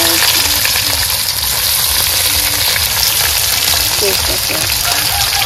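Garlic, green chilli and onion frying in oil for a Bengali mutton curry cooked in a clay pot: a loud, dense, continuous close-up sizzle with faint stirring.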